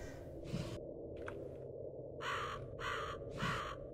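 A crow caws repeatedly inside a building in the horror game IKAI, with five raspy calls over a faint ambient hum, the last three in quick succession.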